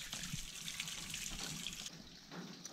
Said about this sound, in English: There is water coming out my exhaust.